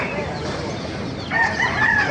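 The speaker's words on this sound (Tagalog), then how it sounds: "Gandang manok nito." A rooster crows once, loud and close, breaking in partway through over the noisy background of a rooster market in Baliuag, Bulacan.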